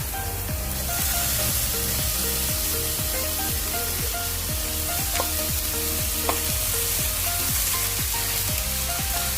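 Pork sizzles in a pan with only a little oil, a steady loud crackle, while a utensil stirs and scrapes in a regular rhythm throughout. No one talks.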